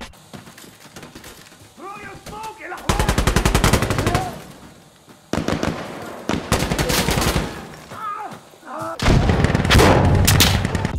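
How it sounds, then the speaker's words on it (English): Insurgency: Sandstorm gameplay fills the scene with loud bursts of rapid gunfire and heavy explosions, several dense barrages separated by short lulls, with debris and distant echoes in between. "Explosions, gunfire, debris effects, ricochets, distant sounds, directional audio, you name it."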